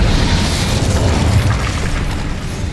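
A fire spell, Incendio, cast in the Hogwarts Legacy video game: a dense, roaring burst with heavy low rumble that holds steady and loud for under three seconds before thinning slightly.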